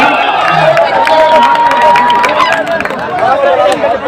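Spectators clapping and cheering at an AYCC Raghopur tournament semifinal match, a crowd roar with scattered claps beneath loud, continuous commentary.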